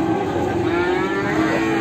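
Limousin calves moo at a livestock market in Magetan, one long loud low call close by over a busy background hum.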